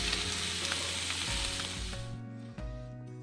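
A steakette and bacon fry together in a pan, giving a steady, loud, close sizzle that thins out and softens toward the end, with occasional small pops and scrapes.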